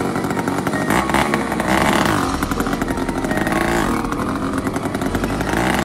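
A bicycle fitted with a motor runs loud and close, a buzzy, rattling small-engine drone with slight rises and dips in pitch held throughout.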